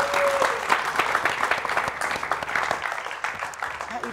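A studio audience at a televised family game show applauds, a dense, loud wash of clapping that runs steadily throughout, with a voice briefly audible underneath.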